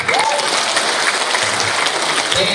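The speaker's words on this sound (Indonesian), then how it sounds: "Coba tepuk tangan." An audience claps loudly and continuously at a business preview meeting in Kendari, making a dense wash of hands with a few brief voices surfacing near the start and end.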